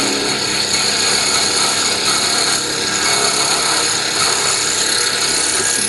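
A milling machine bores out an existing hole dry, giving a steady, loud, hissing cutting whir with a faint high whine that holds evenly throughout.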